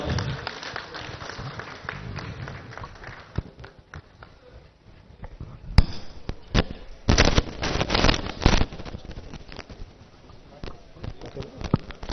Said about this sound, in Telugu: నిండు కరతాళల ధ్వనుల మధ్య చప్పట్ల మధ్య వారిని స్వాగతిస్తున్నాం